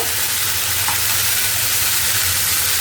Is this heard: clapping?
no